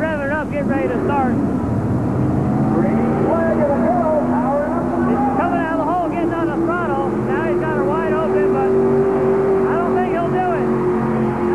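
A tractor pull vehicle revs its engine loudly at the green flag during a 1990 Houston tractor pulling event, a steady roaring drone that rises in pitch, with an announcer talking over the noise.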